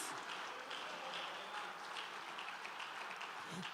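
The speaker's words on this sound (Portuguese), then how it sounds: "Você pode aplaudir por isso?" A church congregation applauds during a sermon, heard as a faint, distant wash of many hands clapping that holds evenly for several seconds without talk.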